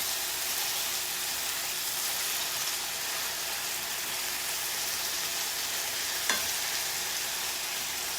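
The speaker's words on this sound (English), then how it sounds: "Hopefully you can hear me with all this pan searing going on." Turkey slider patties sear in a hot pan, giving a loud, steady broadband sizzle that fills the whole stretch without a break, with one small tap near the end.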